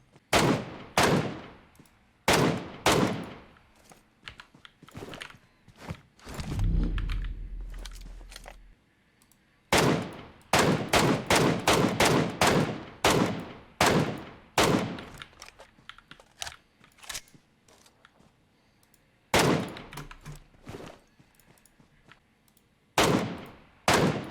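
Gunfire in PUBG Mobile comes in repeated sharp bursts of rapid shots and single cracks, loud and close, separated by short pauses, with a brief low rumble midway.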